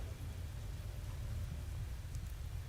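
Lightning storm in the Space Engineers survival game: a low, continuous rumble of rain and distant thunder, steady and fairly faint, with no voices.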